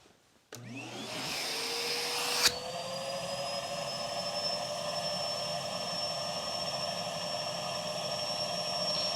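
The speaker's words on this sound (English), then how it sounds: "Let's see how much suction it has." A Henry Petcare HPC 160 vacuum cleaner switches on with a thump and spins up to a steady, loud whining roar that holds for several seconds.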